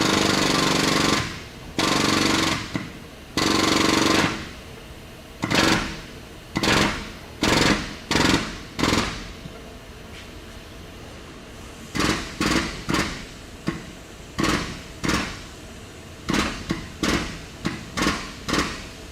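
Repeated bursts of rapid metallic hammering on a damaged car body on a Celette frame bench, some long and some short, separated by brief pauses, close and loud.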